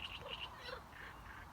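A frog croaks near a fishing spot on a lake, a few short raspy calls in quick succession, faint against a soft outdoor background, with no talk.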